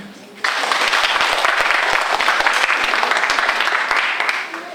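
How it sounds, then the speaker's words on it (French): An audience at a national election-awareness caravan event bursts into applause. After a brief quieter moment, dense, loud clapping takes over and stays steady before easing slightly at the end. "Je voudrais que vous puissiez vous applaudir."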